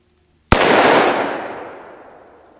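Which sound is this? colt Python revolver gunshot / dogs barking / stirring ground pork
colt Python revolver gunshot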